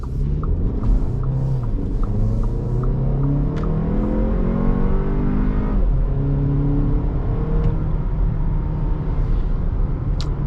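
A 2024 Audi Q3 Premium Plus small luxury SUV with all-wheel drive accelerates in sport transmission mode, the engine's steady rumble rising through the gears in a rolling cabin hum with no talk.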